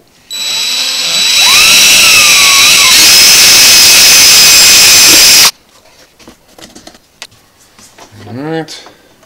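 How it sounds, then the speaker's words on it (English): A loud, steady electric drill whines close up for several seconds, drilling a hole for tubing, then stops; afterward come quiet handling clicks and a brief voice. "Come in here and drill a hole."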